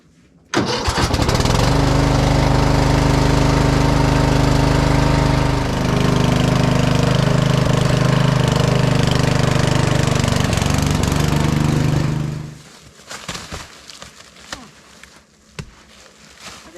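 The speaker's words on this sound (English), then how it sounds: "clamp cables to battery, ready, start vehicle ignition" A vehicle engine being jump-started with clamped battery cables on a homestead cranks and catches, then runs loudly and steadily for about eleven seconds with a shift in pitch midway before cutting off, leaving quiet background.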